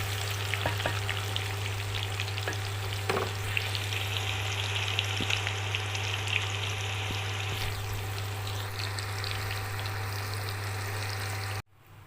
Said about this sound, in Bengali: একটুখানি লাল লাল করে আলুগুলো ভাজা হবে